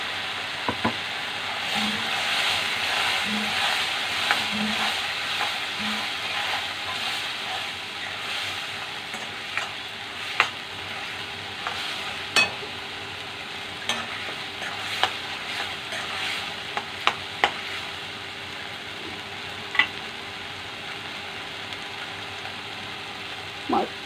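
Ground masala paste for prawn masala fries in a pan with a steady, dense sizzle, while a spoon stirs it in scattered clicks and scrapes over about twenty-four seconds, with no voices.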